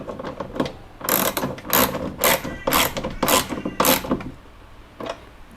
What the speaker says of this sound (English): So now we are just going to tighten these bolts,